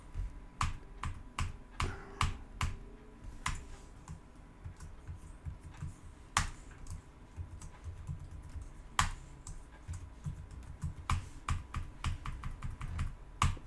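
Computer mouse or keyboard clicks at a desk while an image editor is used to make quote graphics: a steady run of sharp, close, fairly quiet clicks and taps, with no talking.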